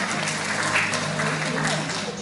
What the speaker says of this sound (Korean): 먼저 박수로 모시겠습니다